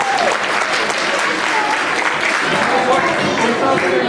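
Audience at a Bengali New Year celebration in New York breaks into loud, dense applause that continues steadily throughout, with a voice speaking over the clapping.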